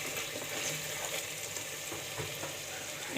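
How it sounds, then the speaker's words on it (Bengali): Spice paste sautéing in mustard oil for chicken bhuna, heard as a close, steady frying hiss with soft stirring scrapes throughout. Nobody speaks over it. "এই একটু সরিষার তেল দিচ্ছি বলে একটু কষাচ্ছি"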